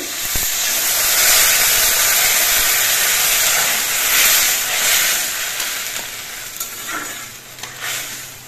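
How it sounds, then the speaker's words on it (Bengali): Broth is poured into spiced vegetables frying in a pan, setting off a loud, continuous sizzle and steamy hiss that swells and then eases, heard close with no talking. "এবার এর মধ্যে ঝোল দিচ্ছি।"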